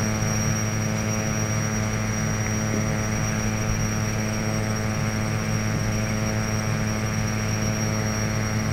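Piper Malibu single-engine propeller aircraft droning steadily in FSX with gear and flaps lowering for landing, a constant loud engine hum with layered harmonic tones throughout, no voices.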